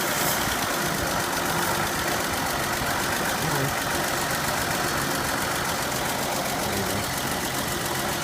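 A 1947 Dodge WD-15 pickup engine idles steadily with an even, continuous mechanical hum and faint ticking, close and constant throughout without any voices.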